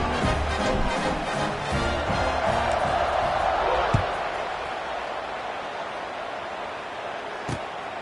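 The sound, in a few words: crowd buzzing in College Football 26 video game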